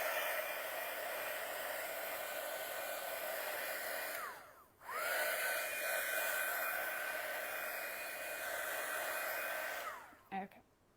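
A hair dryer blows a steady, close whir over a wet decoupaged bunny print, cutting out briefly partway through, restarting and running on before switching off near the end.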